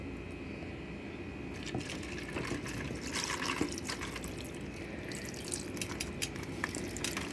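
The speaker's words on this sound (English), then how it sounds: "Okay, now we pour this on." Sauce pours onto an uncooked meatloaf in a home kitchen, a soft continuous liquid slosh with small splattering drips, steady and close.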